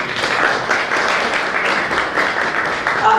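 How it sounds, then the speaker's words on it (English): An audience gives a young author a continuous round of applause at a book launch, steady, dense clapping from many hands throughout. "a big round of applause first of all for you"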